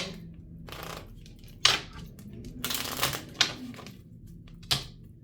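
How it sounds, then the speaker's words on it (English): A tarot card deck shuffled by hand in a quiet room, with crisp riffling and tapping bursts that come in irregular clusters, close and moderately loud. "I'm going to shuffle with the other deck"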